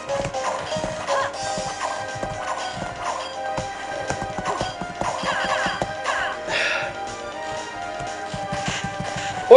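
Horse hooves in the Castlevania: Order of Ecclesia video game, a sequence of sharp clip-clop hits over game music and effects, fairly loud with uneven rhythm.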